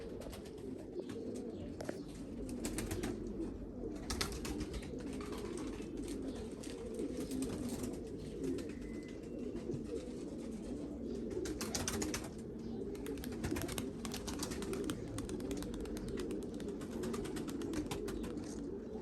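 A white domestic pigeon coos softly in a loft while birds take flight, low repeated throaty coos running steadily underneath, with occasional flutters and faint outdoor noise.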